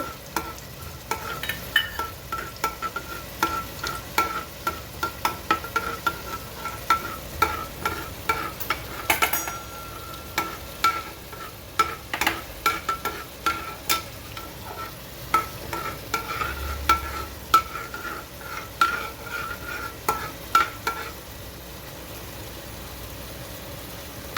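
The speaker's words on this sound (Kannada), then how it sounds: "ಇದಕ್ಕೆ ಮೆಂತ್ಯ ಹಾಕಿದ್ದೀನಿ ಇದು ಪರಿಮಳ ಬರೋವರೆಗೂ ಹುರ್ಕೋಬೇಕು" Fenugreek seeds roasting in a pan for a pineapple gojju, with a steady busy stirring scrape and light sizzle throughout, carrying on alone without voices for the whole stretch.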